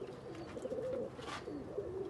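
Sialkoti pigeons coo in a low, continuous murmur that stays steady and close throughout, with no voices.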